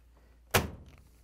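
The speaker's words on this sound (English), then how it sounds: "next we're going to close the door" A Whirlpool/KitchenAid/Maytag clothes dryer door swings shut with a single solid, close-up thunk, followed by a brief fading rattle in an otherwise quiet room.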